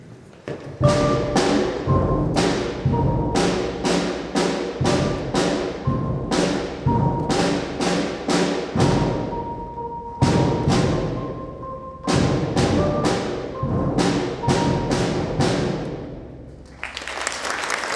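A school percussion section plays Hot Cross Buns on a struck mallet instrument, with sharp, repeated hits in a simple rhythmic pattern, each ringing briefly, close and fairly loud.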